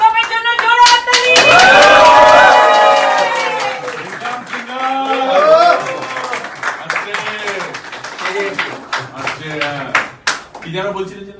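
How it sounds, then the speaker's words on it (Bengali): A crowd applauds for a celebrity at a film production launch ceremony, with loud, dense clapping up front that fades as speech takes over, leaving scattered claps under talking and a short burst near the end. "আমাদের বাংলার সিংহের জন্য জোরে হাততালি।"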